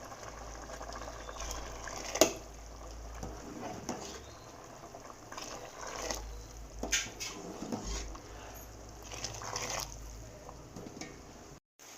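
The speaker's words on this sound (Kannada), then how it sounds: "ನೋಡಿ ನೀರು ಕುದೀತಾ ಇದೆ" Water boiling in a pot on the stove before rice is added for a drumstick pulao, a low bubbling rumble with occasional louder pops and clinks, steady and fairly quiet throughout.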